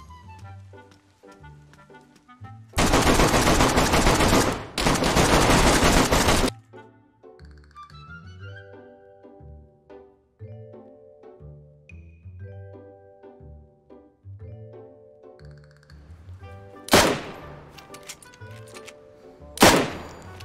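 Gunfire in the video game DayZ comes as two long bursts of rapid loud shots early on. Later, two sharp single shots ring out over tonal in-game music.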